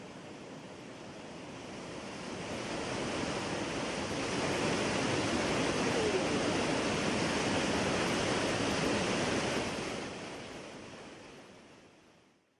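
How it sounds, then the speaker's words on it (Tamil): Flooded Kumbakkarai waterfall in Tamil Nadu, water roaring down in a dense, continuous wash of white noise that swells and then fades slightly toward the end, with no voices. "கும்பக்கரை அருவியில் ஏற்பட்டுள்ள வெள்ளப்பெருக்கு காரணமாக தண்ணீர் ஆர்ப்பரித்து கொட்டுகிறது"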